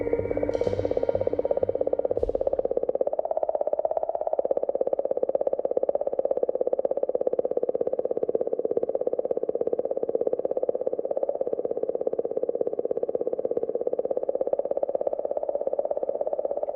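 An eerie, wavering hum from comet 67P as detected by the Rosetta probe, a continuous warbling drone with a faint, ghostly singing quality that holds steady for the whole stretch after a few brief opening tones.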